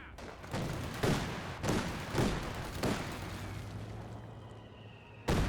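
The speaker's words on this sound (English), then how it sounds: "120mm mortar. Barraging." A 120mm mortar barrage in the video game Company of Heroes 2, with a series of heavy booming impacts arriving every half second or so, each followed by a rumbling tail, and another blast at the end.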